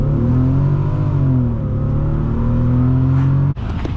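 A 2008 Bentley Continental GT engine revs hard and deep under acceleration, a steady loud drone that climbs through the gears and then briefly drops off near the end before picking back up.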